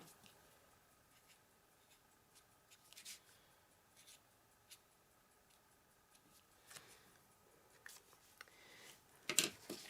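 A Stampin' Dazzle pen drawing freehand on paper gives faint, intermittent scratchy strokes and light taps, quiet and close, with no talk.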